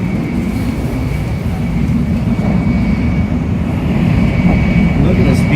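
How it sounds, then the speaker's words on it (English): Onboard a Japanese bullet train between Tokyo and Osaka at high speed, a dense, steady low rumble and rushing roar fill the cabin, growing slightly louder toward the end. "This train's going about 100 miles per hour."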